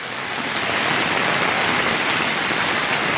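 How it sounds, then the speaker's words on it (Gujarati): Steady rain hisses down on surfaces, a dense continuous patter at even loudness with no voices. "વરસાદ ચાલુ હતો"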